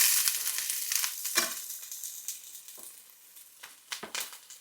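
Onion sizzling in hot oil in a frying pan for a mushroom-soup bolognese, a steady hiss broken by sharp crackling bursts and a few louder spits, close and continuous with no talking.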